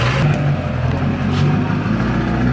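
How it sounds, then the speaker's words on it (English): Diesel truck with an LB7 Duramax and ZF6 transmission revs hard while leaving, a loud, continuous low roar close by with no talking. "Big burnout on the way out?"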